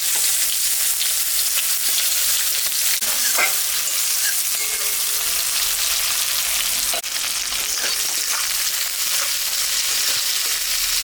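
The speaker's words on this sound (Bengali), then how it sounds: "লঙ্কা আর জিরা সম্বরা দিলাম, পেঁয়াজটা আমি দিয়ে দিলাম।" Onion fries in oil tempered with chilli and cumin, a loud close sizzle and hiss with stirring scrapes and clinks of a utensil against the pan, continuing without break.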